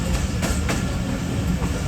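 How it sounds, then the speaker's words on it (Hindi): Khyber Mail passenger train pulling out of a station at night, a steady loud rumble of wheels and rail with rhythmic clickety-clack throughout, no voices. "2 मिनट रुकने के बाद ट्रेन हमारी निकल रही है"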